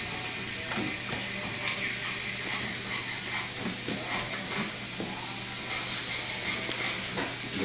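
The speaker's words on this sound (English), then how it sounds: "that steam will dissolve the glue that's holding the neck in" Steam from a luthier's setup hisses steadily while it loosens the glued neck joint of a guitar, a continuous close rushing noise with faint clicks and knocks in the background.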